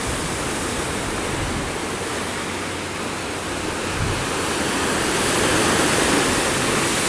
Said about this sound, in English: Like watching that, with the waves crash in and out.